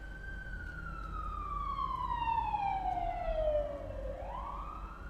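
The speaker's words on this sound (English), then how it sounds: "I live on a major street in my neighborhood, so you may hear some sirens" A street-side siren, likely from a police or other emergency vehicle, wails with a single long falling sweep and then rises again. It sounds fairly distant over a low traffic rumble, and no voices are heard.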